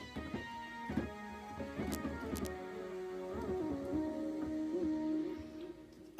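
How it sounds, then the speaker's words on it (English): A synthesizer patch rings out from a keyboard with sustained tonal notes and several pitch changes, moderately loud and alone, fading toward the end. "Okay, there's our synth sound."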